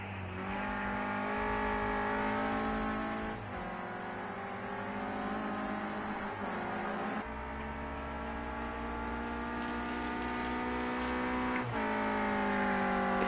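Renault Clio Cup race cars lap Snetterton during a qualifying session, engines howling loud and close as they rev hard through the gears, with sharp pitch drops at each upshift and a continuous roar across the whole stretch.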